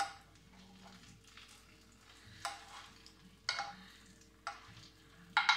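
Butter browning to noisette in a frying pan gives a soft, faint sizzle beneath low hum, broken by a few brief bursts of spattering and stirring clatter.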